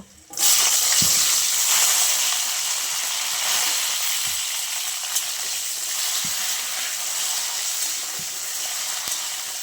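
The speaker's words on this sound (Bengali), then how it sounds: "এবার দিয়ে দিচ্ছি আমি ধুয়ে রাখা সিমগুলো।" Washed flat beans go into a hot pan of oil with five-spice seeds and split green chilies, setting off a loud, steady, close sizzle that continues throughout with no talking.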